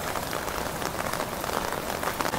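Rain falling steadily in Surat during a wet morning, a dense close patter of drops on surfaces that is continuous and fairly loud, with no talk.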